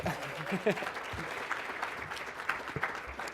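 Audience applause at a youth engagement talk after a speaker's introduction, a steady patter of claps in a hall with a voice speaking over part of it.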